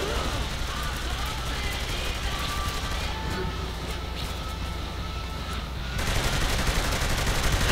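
Continuous submachine gun fire from the Saints Row video game, a dense unbroken rattle of rapid shots that runs loud throughout and swells louder in the final seconds.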